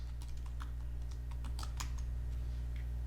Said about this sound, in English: I'm going to click and type in the word shining in all caps.